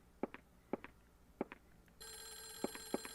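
Telephone ringing in the Clock Tower game, with a steady bright electronic ring starting partway through over quiet background, alongside a few soft, evenly spaced footsteps.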